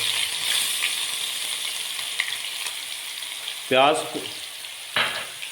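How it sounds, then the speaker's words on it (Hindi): Two medium chopped onions frying in oil for aloo palak, a continuous close hiss of sizzling with a couple of brief stirring scrapes and no voices. "देखें कितना बेहतर तरीके से ये ऑयल में जाते ही ये अच्छे तरीके से फ्राई होना शुरू हो गए"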